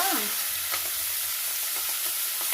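Fenugreek and spinach leaves fry in oil with turmeric in a pan, giving a steady broad sizzle with a few soft stirring scrapes, close and even throughout, with no talking.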